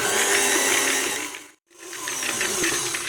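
Electric whisk beating sugar with liquid vanilla for a chocolate chip cake batter, a loud, close, continuous mechanical whir that cuts out briefly mid-clip and then restarts.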